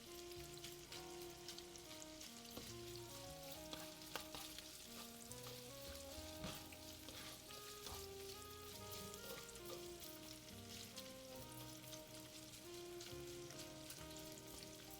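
Cajun sausages frying in a hot pan, a continuous faint sizzle and crackle with soft stirring, steady throughout with no talk, while quiet background music plays underneath.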